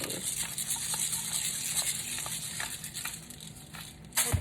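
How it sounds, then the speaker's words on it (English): Pepper is ground onto pork chops with a close, steady gritty crunching and crackling that runs throughout at low level, with a sharper burst near the end. "A little bit of pepper on everything again."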